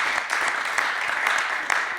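Audience applause in a sanctuary after a film introduction and Q&A, a steady wash of many hands clapping close by with no voices over it.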